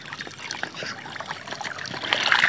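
Water trickling and splashing as a small child is bathed with soap, light irregular splashes and drips close by, a little louder toward the end, with no talking.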